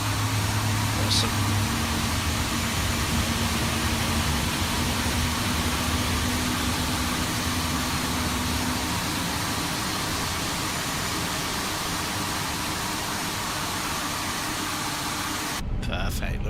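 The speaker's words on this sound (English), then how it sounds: "Looks like 2 good engine starts." Twin engines of an Airbus A350 airliner in Microsoft Flight Simulator run at a steady idle, a constant broadband hum and whine with a low droning tone, continuing evenly before cutting off abruptly near the end.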